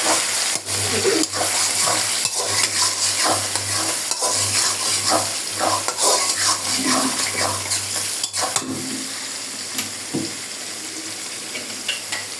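Chopped onions sizzle and fry in hot oil in a pan for a chicken curry, with steady loud crackling and repeated scraping stirs of a spoon across the pan throughout.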